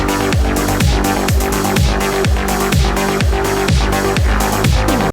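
A post-punk drum beat mix with no Monolith plugin on the master bus: steady punchy kick drum with pitched decay and crisp snare and cymbals repeating in a tight, loud, driving loop.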